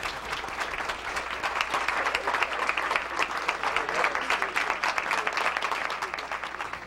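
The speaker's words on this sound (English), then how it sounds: "Let's give her a big round of applause." Dense, steady applause fills the room at a banquet for a pilgrimage group back from the Holy Land, with many hands clapping evenly and continuously at a moderate distance for about seven seconds.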